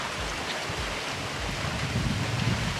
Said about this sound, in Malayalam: നല്ല കാറ്റും മഴയാന്ന് വന്നത്.